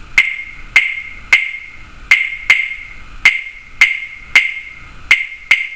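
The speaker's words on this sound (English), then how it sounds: "Two sticks that get banged together into a pattern" Two wooden clave sticks clacked together in the son clave pattern, sharp bright clicks repeating in the familiar syncopated rhythm, close and loud with nothing else behind them.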